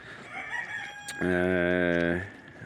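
An Old Polish breed turkey on a farm gives one loud, drawn-out harmonic call that lasts about a second, standing out clearly over faint background noise.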